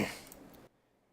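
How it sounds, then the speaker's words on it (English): A single short cough and throat clear, close and fairly loud, breaking off abruptly into near silence. "Hold on, I got a cough."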